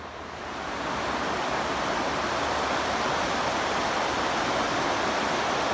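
Steady rushing water spilling over a weir at Blackwell Mill in the Peak District, a broad continuous roar that rises within the first second and then holds loud and even, with no voices.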